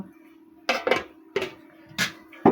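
Metal lid knocked onto a cooking pot of Bengali fish-head murighonto with chickpea lentils, several sharp clanks and clatters in close succession over a steady low hum, no talk.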